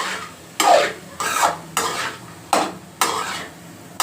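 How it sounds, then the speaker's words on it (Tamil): A spoon stirring pepper-cumin powder into tamarind rice in a pot, close and fairly loud, with about six evenly spaced scraping strokes that each fade out. "மிளகும் சீரகமும் கொஞ்சம் வறுத்து பொடி பண்ணி வச்சுக்கிட்டு இது மேலே தூவி மறுபடியும் கலரணும்"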